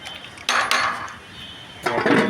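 A utensil stirs chickpea dal in a metal cooking pot, making a few short bursts of scraping and clanking, with a quieter gap between them.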